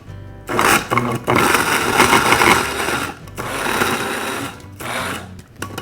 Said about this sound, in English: This spice and nut grinder, it literally made Parmesan cheese in like 3 little presses.